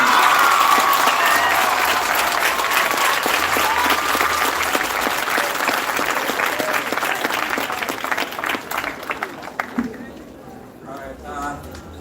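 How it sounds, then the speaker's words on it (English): An audience at a school graduation ceremony applauding, dense sustained clapping that thins out into scattered claps near the end, with a voice speaking over it. "give Mr. Wellington another round of applause for his excellent service to this institution"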